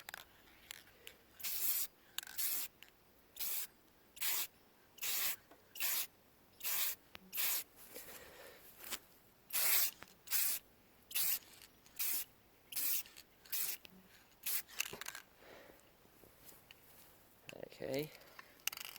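Aerosol tint sprayed onto the tail lights of a 1992 Jeep Cherokee XJ: a steady run of about fourteen short, sharp hissing bursts, close and evenly spaced, each separated by a brief pause.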